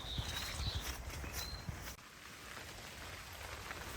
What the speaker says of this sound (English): Less than a mile into my walk and it's already started raining.